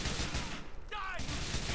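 Rapid bursts of gunfire striking a sign in Grand Theft Auto IV, loud and continuous with a brief lull midway, and someone speaking faintly underneath.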